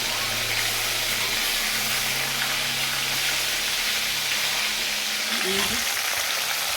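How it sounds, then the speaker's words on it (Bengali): Food marinated in salt and turmeric fries in a pan, a steady close sizzle and hiss running throughout with a low hum in the background and a brief clatter near the end. "এখন ভেজে নিই তাড়াতাড়ি করে, তার সঙ্গে সব কিছু আছে।"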